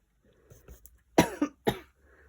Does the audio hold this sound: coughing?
yes